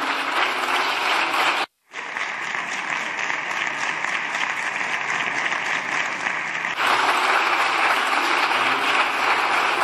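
Applause from the public gallery of the Spanish parliament after a minister's speech on the trans rights law, dense continuous clapping that breaks off for a moment, then swells louder.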